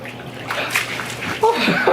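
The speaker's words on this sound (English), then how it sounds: "Literally just splashed me." Water splashing in a cold plunge tub as two people climb in together, with short bursts of sloshing and splatter against a steady watery background; voices are heard close by.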